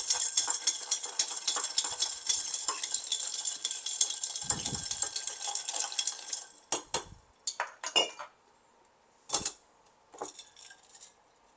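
A cocktail being stirred in a glass or mixing tin: a steady, close metallic tinkling of spoon against ice for several seconds, then a few separate clinks and knocks.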